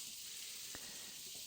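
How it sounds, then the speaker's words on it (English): Marinated chicken sizzling in an oiled wok: a steady, faint hiss of frying throughout, with one small pop partway through and no talking. "So that gives a good sizzle because there's still a fair bit of moisture in there."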